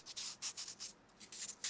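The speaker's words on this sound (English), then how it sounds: "this stuff is so easy to sand, you don't even need sanding paper." Fingers rubbing and sanding the edges of carved styrofoam prop teeth, a series of soft, quick, close scratchy strokes in an irregular rhythm, quiet and without speech.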